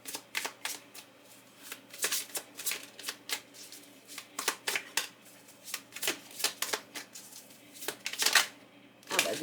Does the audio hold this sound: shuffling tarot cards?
yes